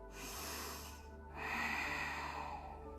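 Breathing during a yoga exercise: a long, close, airy inhale through the nose, then a second, stronger breath, both audible and unhurried.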